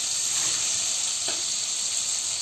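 Potatoes frying in an oil-filled pan for aloo kurma, giving a steady, close sizzling hiss that runs unbroken throughout with no voices.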